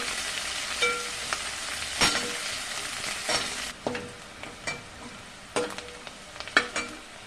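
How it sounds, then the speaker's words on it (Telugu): Onions frying in hot oil for a bottle gourd curry, a steady close sizzle with intermittent scraping and stirring clinks from a spoon in the pan, with no talking. "ఉల్లిపాయలు వేసుకొని ఎర్రగా గోల్డెన్ కలర్ రావాలి"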